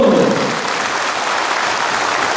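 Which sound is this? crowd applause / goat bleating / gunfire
crowd applause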